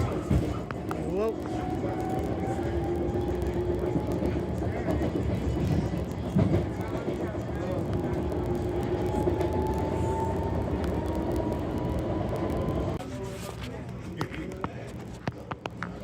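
SEPTA Norristown High Speed Line train riding fast, a steady onboard rumble and rail noise with a rising motor whine, heard from inside the car; speech tagged but no words transcribed.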